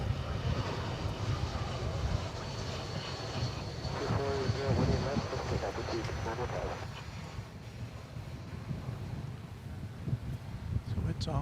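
An airliner takes off at DFW airport, its engines roaring in a loud, sustained rush that swells and holds before easing slightly toward the end, with faint voices underneath.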